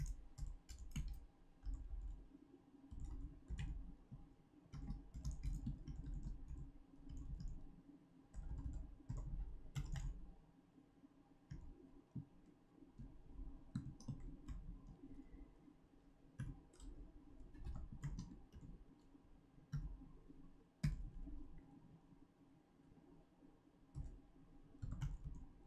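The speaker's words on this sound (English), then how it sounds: "I will type it in and then I explain what that is" Quiet, close clatter of typing on a computer keyboard, with irregular bursts of key clicks and short pauses throughout, faint and with no voices.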